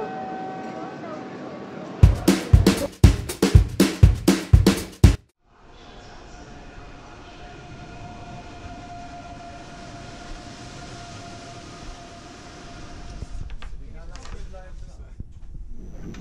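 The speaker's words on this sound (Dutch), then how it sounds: "we zitten in de trein" Rhythmic clacking of train wheels over rail joints gives way to a steady low rumble of a moving carriage leaving Utrecht Centraal, with faint voices in the background.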